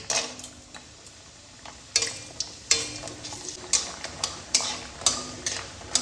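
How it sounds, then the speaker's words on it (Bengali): Hot oil sizzles around frying lentil dumplings while a utensil taps and clicks against the pan at an irregular, quickening pace. "তেল গরম হয়ে গেছে আমি গোটা গোটা বড়িগুলোকে ভেজে নিচ্ছি"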